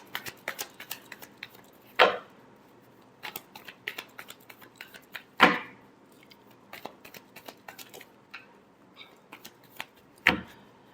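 Tarot cards being shuffled by hand, a run of quick papery riffles and taps with three sharper, louder snaps spaced through it, close and without talk.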